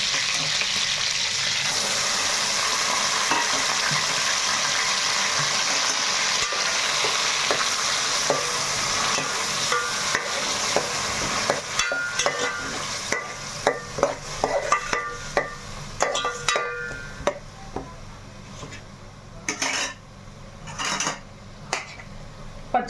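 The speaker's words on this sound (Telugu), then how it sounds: "ఉల్లిపాయ టమాటా పేస్ట్ కూడా వేసేస్తున్నాం" Onion and tomato paste sizzles and fries in a pan for a Telugu pulasa fish curry, with steady close frying hiss and a run of scraping, clicking stirs that grow sharper and more spaced toward the end.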